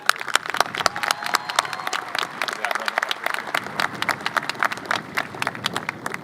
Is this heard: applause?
yes